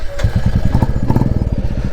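A Royal Enfield Classic 350 motorcycle engine fires up and settles into a loud, close, steady thumping idle with rapid rhythmic low pulses, no voices over it.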